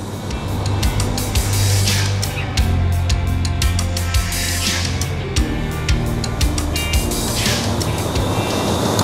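Large industrial belt dryer drying wood chips for pellets, a loud continuous low mechanical hum and rumble with repeated sharp clatters and rattles over it.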